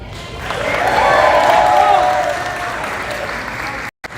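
Applause at a high school graduation ceremony, a large audience clapping in a swell that peaks and then tapers before stopping abruptly.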